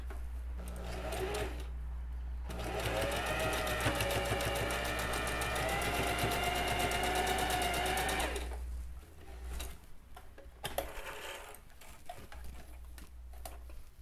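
A sewing machine runs steadily for several seconds with rapid, even stitching while sewing a zipper on a shoulder bag, then stops, leaving quieter handling noises.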